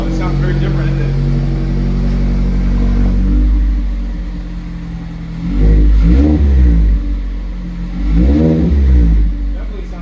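2022 Mazda Miata RF with a GWR exhaust, a steady engine idle rising into two throaty revs, close and loud, with people talking over the start.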